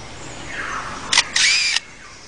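A lyrebird mimics a camera with a motor drive, giving a short click and then a longer whirring burst that cuts off abruptly, close and distinct against quiet forest ambience.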